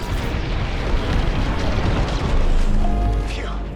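A carrier blows up in the Star Wars Squadrons space combat game: a long, loud rumbling blast with crackling debris, a faint voice heard briefly near the end.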